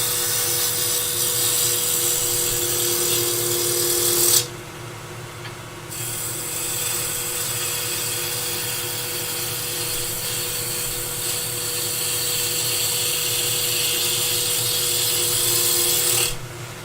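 Wood spinning on a lathe while a spindle roughing gouge cuts a coloured, textured box, a steady rasping hiss broken by a brief pause in the cut before the gouge resumes.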